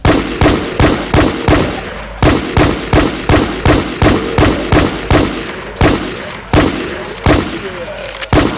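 Rapid gunfire from a macro in the Infestation video game, loud close shots repeating in a fast, even rhythm, about two per second, with no talking.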